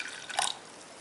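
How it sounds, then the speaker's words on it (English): Cold water is poured into mealie meal to make a paste for sadza, a single short, soft trickle and splash close by, with no one talking. "I'm going to be adding my cold water to make a paste"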